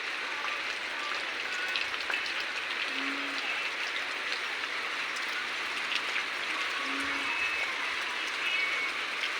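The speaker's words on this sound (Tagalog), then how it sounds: "ayaw tumigil ng ulan." Steady storm rain falls without wind, a dense, continuous patter of drops on surfaces that stays even throughout, with a couple of faint tonal chirps in the background.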